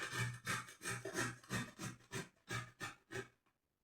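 Vegetables for borscht being grated by hand, a steady rhythmic series of about nine scraping strokes, close and fairly loud, each stroke a short rasping burst, with no talk.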